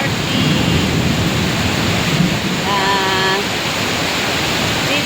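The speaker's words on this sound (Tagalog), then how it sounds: "Ayun lakas ng ulan, sobrang lakas ng ulan." Heavy rain pouring at Titiwangsa LRT station in Kuala Lumpur, a loud continuous hiss like rushing water with a brief faint tonal sound partway through and no clear speech.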